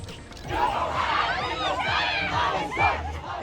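A large crowd in Times Square, New York City, cheers and shouts at a live concert by a pop group, a dense roaring mass of voices that swells and stays loud throughout.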